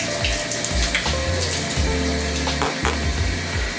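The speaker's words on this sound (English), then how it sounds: "I'm gonna go ahead and finish my shower" Shower water runs steadily, a loud, broadband hiss and splatter that shifts slightly as the spray hits different surfaces, with low gurgles underneath and no talking.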